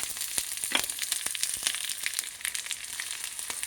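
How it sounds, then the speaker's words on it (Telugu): Cashews, cumin, black pepper and green chillies sizzle in hot ghee, a close, steady crackling fry with sharp pops scattered throughout. "ఇందులో ఇప్పుడు నెయ్యి వేసి తాళింపు చేస్తున్నాను."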